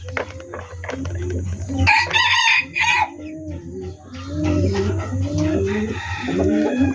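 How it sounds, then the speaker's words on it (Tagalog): A rooster crows loudly and close by, with hens clucking around it and a steady low hum underneath. "yung alaga nating tandang. Yung tandang natin dito."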